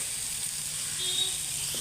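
A Godavari koyinga fish, just turned over, fries in hot oil with a steady, close hiss and sizzle that runs evenly throughout.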